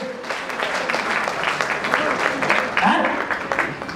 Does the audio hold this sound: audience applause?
yes